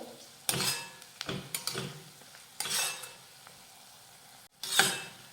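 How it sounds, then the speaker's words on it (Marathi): Wet scraping and clinking of a spoon stirring and mixing a chopped vegetable dish with coriander in a pan, in several separate bursts of close stirring with short pauses between, no talking. "आता हे मिक्स करून घेऊयात हे सगळं व्यवस्थित असं मिसळून घ्यायचं"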